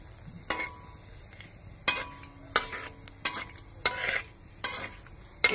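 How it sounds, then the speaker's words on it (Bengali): Nigella seeds, a dried red chilli and a bay leaf broken in two frying in hot oil, with a soft steady sizzle broken by several sharp scraping stirs of a utensil against the pan, close and fairly quiet. "এই ফোড়নটি ভাজার পরে সুন্দর একটি সুগন্ধ বেরোবে"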